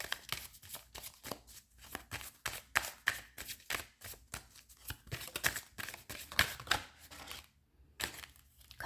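Tarot cards are shuffled, drawn and flipped over on a table in a rapid series of crisp, papery flicks and slaps, close and clear, with a brief pause near the end.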